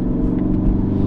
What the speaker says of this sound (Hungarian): hallgatjuk ezt a gyönyörű hangot, amikor visszaváltunk, akkor is azért egy kis gázfröccse próbál minket kényeztetni a Ford Focus ST